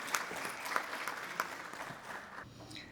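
Applause from a conference audience at UNESCO welcoming a speaker to the stage, a steady wash of clapping at moderate distance that thins out toward the end.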